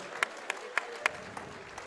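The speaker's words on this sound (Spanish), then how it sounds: "Un round of applause for both fighters inside the ring." A sparse round of applause for two boxers at a fight, a handful of distinct claps at a steady pace over a quiet background, fading slightly toward the end.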